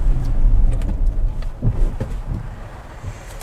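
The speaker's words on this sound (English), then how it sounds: "Now it's time to do an emergency brake." A Jaguar I-Pace electric car braking hard during a test drive, with low road and tyre rumble swelling and settling, plus some wind buffeting on the microphone and no engine note.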